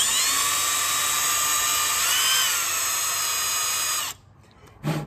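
A high-pitched power drill whines steadily for about four seconds drilling into a broken timing cover bolt, then cuts out, followed by a brief clunk and rustle.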